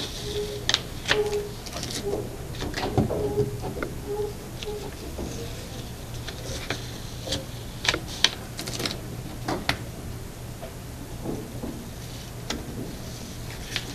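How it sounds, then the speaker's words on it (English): Masking tape is pulled up off paper in a series of short crackling rips and scratchy ticks, close up and fairly faint, spaced irregularly over a low steady hum. "When you're pulling this masking tape"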